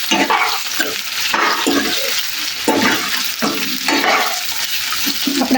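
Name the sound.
muthiya and green chillies added to sizzling sesame tempering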